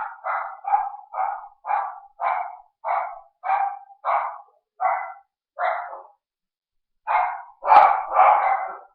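A dog barks repeatedly indoors at home, a regular series of about a dozen sharp, close barks, then a short pause and a final louder burst, with no talking.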